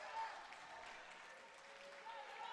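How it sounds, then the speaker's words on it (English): A basketball crowd at a Simon Fraser University women's game against Western Oregon applauds and cheers after a made free throw, a steady wash of clapping heard faintly at a distance beneath a commentator's voice. "And the crowd goes wild."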